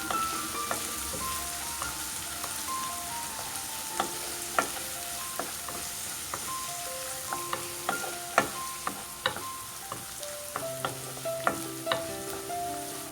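Crushed ginger and garlic sizzle steadily in hot oil in a pan for mutton roast, with frequent sharp clinks of a spoon scraping and tapping the pan, close and clear, with no voice.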